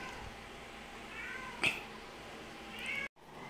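Pet cats meow a few times at home, short close calls over a quiet indoor background with no talking.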